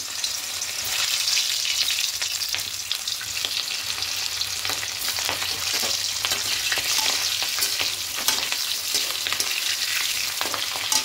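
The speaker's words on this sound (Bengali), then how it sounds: "এবার দেবো, শুধু হালকা একটু লাল করে ভেজে নেব।" Boiled potato halves frying in hot oil in a kadai, a steady, dense crackling sizzle that runs close and loud throughout with occasional stirring clicks.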